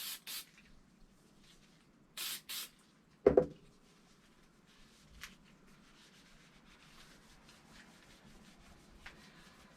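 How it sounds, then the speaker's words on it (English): Hornady One Shot cleaner sprayed onto a rifle bolt comes in short hissing bursts, then a brief rubbing as the excess is wiped off, all close and quiet in a still room. "Spray it directly onto the bolt and then wipe off all of your excess."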